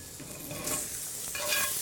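Mushrooms sautéing in a pan as they are lifted out, a soft, faint sizzle with a few light scrapes and stirring sounds over about two seconds.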